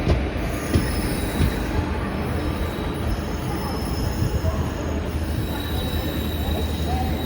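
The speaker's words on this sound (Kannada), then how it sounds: "ಪ್ಲ್ಯಾಟ್ಫಾರ್ಮ್ ನಂಬರ್ 2 ಅಲ್ಲಿ Madurai to Kanpur central special express ನಮ್ಮನ್ನೀಗ overtake ಮಾಡ್ತಾ ಇದೆ." The Madurai to Kanpur Central special express overtakes on platform 2 at an Indian railway station, a loud, continuous rumble of rolling wheels with thin high squeals, heard close for the whole stretch.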